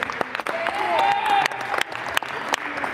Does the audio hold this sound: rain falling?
no